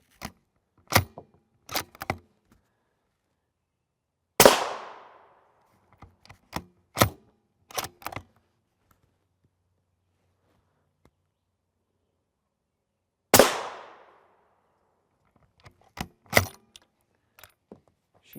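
Two loud, sharp rifle shots strike a Caliber Armor AV2 Series NIJ Level III+ body armor plate with a polyurea coating, spaced far apart, with scattered clicks and handling clatter between them.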